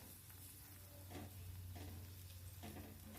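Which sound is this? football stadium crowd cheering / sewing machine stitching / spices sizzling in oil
spices sizzling in oil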